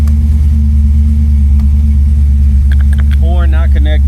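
A supercharged LS3 V8 in a 1972 Chevelle rumbles loudly at a steady, deep idle close by, with someone talking briefly over the engine near the end.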